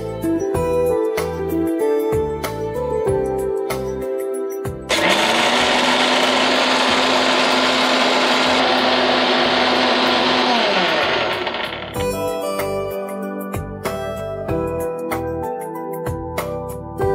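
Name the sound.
mixer grinder blending soaked jowar with water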